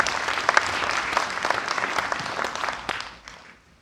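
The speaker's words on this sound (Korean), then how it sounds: "박수로 맞이해 주시기 바랍니다" Audience applause greets a speaker at a Gyeongju citizens' debate forum on the future of Gyeongju University, with dense clapping that stays steady and loud before tapering off into quiet near the end.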